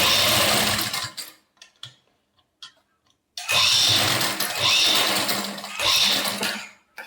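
A sewing machine runs straight stitching on suit fabric in loud close bursts, stopping and starting with short pauses between runs of rapid whirring.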